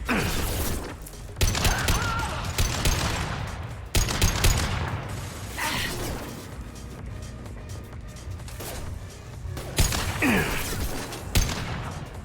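Gunfire in the Mass Effect video game comes as repeated loud bursts and sharp shots across the whole stretch, mixed with mechanical clatter and impacts, and no talking.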